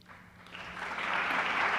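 Debate audience clapping, building steadily from a moderate start to a fuller, sustained applause with no voices over it.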